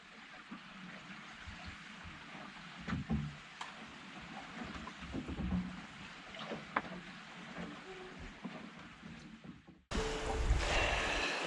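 Water laps softly and steadily against a sailboat hull moving at 4.7 knots through thick fog on a sail from the USA to Canada. A louder burst of broadband noise sets in near the end.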